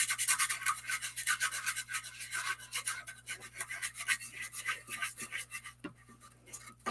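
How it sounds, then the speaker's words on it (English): A hand sanding tool rubs lightly across embossed cardstock in quick, soft rasping strokes that repeat in a steady back-and-forth rhythm, close and fairly quiet, with no talking. "I'm going to hit this with my sanding tool"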